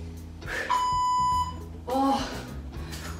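Workout timer beep during a home exercise session, a single clear electronic beep sounding near the start, followed by someone speaking.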